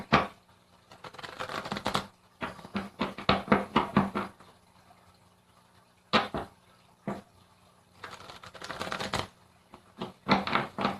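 Tarot cards being shuffled in bursts of riffling clatter, each flurry a couple of seconds long with quiet gaps between, close and fairly soft with no talking.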